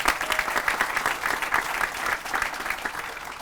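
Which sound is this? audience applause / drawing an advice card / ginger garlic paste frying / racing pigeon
audience applause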